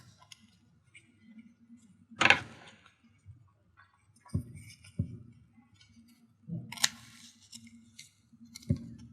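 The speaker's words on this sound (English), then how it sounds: "And you want to cut two strips that size." Scissors cut strips of thin EMI shielding material in a quiet room: a few short, sharp snips and clicks spaced several seconds apart, close up, with soft handling noises between.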